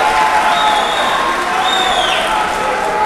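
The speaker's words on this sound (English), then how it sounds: "So a standing ovation here from what has been an electric fight." A boxing crowd gives a standing ovation after the fight, with sustained applause and cheering and a few whistles. The crowd roar stays loud and continuous, mixed with broad crowd noise.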